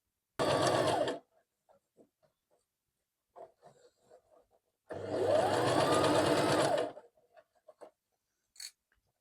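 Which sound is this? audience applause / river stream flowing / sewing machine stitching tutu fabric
sewing machine stitching tutu fabric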